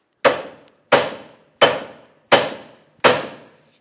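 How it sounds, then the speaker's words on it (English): A hammer taps the steering knuckle of a 2003-2008 Toyota Matrix five times in an even rhythm to free the stud, each sharp metallic strike close and loud and fading quickly. "Take a hammer, and like I said, tap the knuckle right here."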